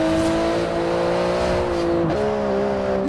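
A flat-six twin-turbo car engine of about 700 horsepower in Forza Horizon 4 revs steadily with a high, buzzing drone, then briefly dips and climbs again, close and loud with no voices.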